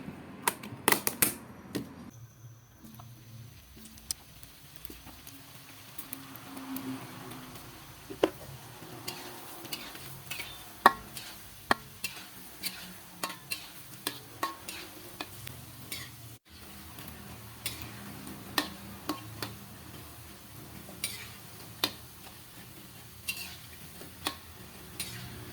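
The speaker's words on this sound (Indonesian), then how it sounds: "Nah, ini sekarang siap digoreng." Wonton-skin snacks frying in hot oil, a steady sizzle broken by frequent sharp pops and crackles, close and without talk.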